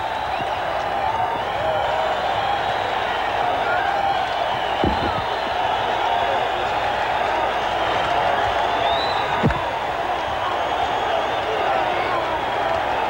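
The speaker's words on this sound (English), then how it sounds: "The crowd is littering the ring with beer and coins, a very unwise practice indeed." A boxing arena crowd roars steadily after a knockout between Bobby Chacon and Rafael Solis, with two sharp thuds of objects landing in the ring and a voice talking faintly under the din.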